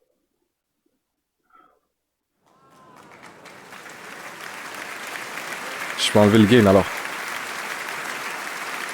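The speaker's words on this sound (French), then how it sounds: "Faites un tonnerre d'applaudissements pour monsieur Fabrice Eboué" After near silence and a short spoken remark, applause from a stand-up comedy audience fades in and builds into a thick, steady ovation, with a brief loud voice-like burst partway through.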